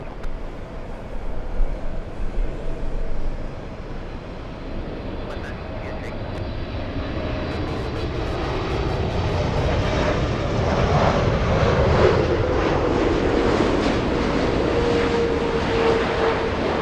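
Lufthansa airliner at LAX, jet engine roar building steadily from faint to loud as it approaches, with brief talk early on.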